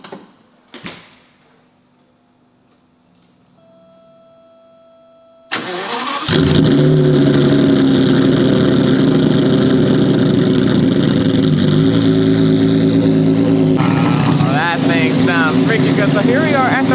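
A straight-piped Ferrari F50 hypercar sits quiet apart from a few clicks, then its engine fires and settles into a loud, steady, close-up running roar that holds to the end with a slight shift in tone.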